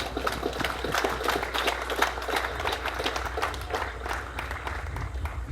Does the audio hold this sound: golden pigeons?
no